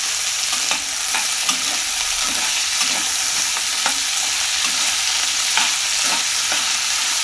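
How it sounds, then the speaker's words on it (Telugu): Pieces of carrot, beans and potato frying in a pan make a steady close sizzle, with a spoon or spatula scraping and stirring at irregular intervals; no voices. "ఈ ముక్కలన్నీ ఒక 5 నిమిషాలు ఫ్రై చేయాలి."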